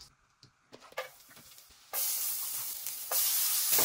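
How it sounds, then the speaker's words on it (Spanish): Garlic and onion fry in about a tablespoon of melted butter in a pan, a soft sizzle with a few stirring clinks that swells into a steady, louder hiss partway through. "Ya pasó el minuto que se estuvo friendo el ajo y la cebolla."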